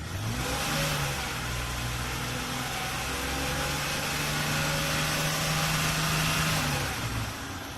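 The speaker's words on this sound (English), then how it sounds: "do a couple of quick throttle snaps" A car engine runs steadily up close during a head gasket check, its droning hum rising and falling as the throttle is briefly snapped, staying under 3,000 RPM.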